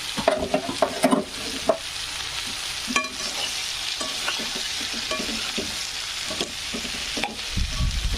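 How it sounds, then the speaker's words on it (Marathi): Okra (bhindi) being stirred in a pan, with several clattering scrapes of a spoon early on over a continuous gentle frying sizzle, and no one speaking. "भेंडी टाकून घेतल्यानंतर पूर्ण मिक्स करायचं."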